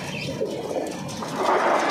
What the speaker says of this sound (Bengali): এই যে খামারটা প্রায় 250-300 কবুতর প্লাস কবুতর আছে এখানে